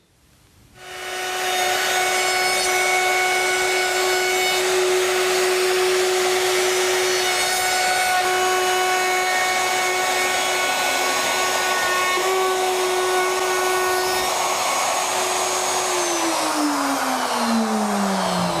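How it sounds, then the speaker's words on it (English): Power router trimming wood back flush to the framework of a chicken coop, a loud continuous whine that spins up quickly and holds steady for the whole stretch, with the pitch dropping slightly near the end. "It's just ready now for the router treatment, going all around, trimming everything back neat to the framework"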